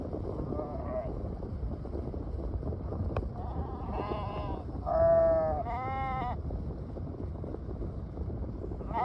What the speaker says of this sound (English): There are hundreds of sheep. The sheep and goats don't pause at all.